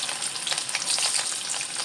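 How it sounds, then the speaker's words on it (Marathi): Garlic sizzles in hot oil as a seasoning base for a Konkan-style fenugreek stir-fry, a steady crackling fry heard up close and on its own. "आता तेल तापलेलं आहे, या तेलामध्ये मी पहिल्यांदा ही लसूण टाकतोय."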